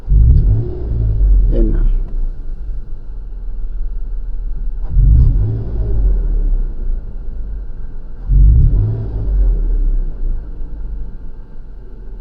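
A Toyota FJ Cruiser engine with a bank 1 issue and low power revs up in three separate bursts as the accelerator is pressed, each rising over a steady idle rumble while someone talks.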